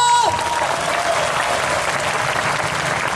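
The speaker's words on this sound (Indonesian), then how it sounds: "Mana tepuk tangannya?" A congregation at an evangelistic church service breaks into loud, sustained applause that fills the room evenly for several seconds, with a voice briefly heard at the start.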